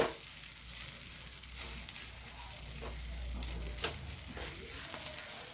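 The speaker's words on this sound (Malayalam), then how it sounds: "നമ്മളെടുത്ത് വെച്ച ചിക്കനും കൂടെ കൂട്ടിയിട്ട് നല്ലോണം ഒന്ന് ഇളക്കി കൊടുക്കാം" Chicken pieces stirred in a hot frying pan for a Kerala-style chicken milk chapati, a steady close sizzle with scraping strokes of a spoon against the pan, no voices.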